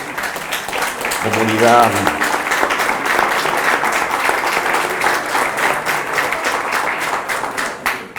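An audience at a conference talk on capitalism breaks into sustained applause, loud and continuous for several seconds, after a speaker's brief closing word.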